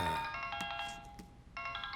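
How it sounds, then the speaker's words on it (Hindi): A phone ringtone plays a bright, repeating electronic melody, with a short break in the middle before the tune starts again. No one speaks. "किसका फोन है?"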